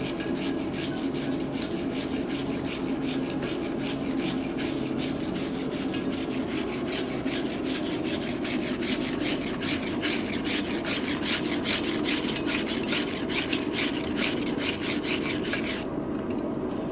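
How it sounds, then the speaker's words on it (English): A twisted metal bar being scrubbed with a wire brush along the twist, a continuous close, rapid rhythmic scratching that runs steadily throughout before stopping at the end. "When you're wire brushing these things, always brush with the twist."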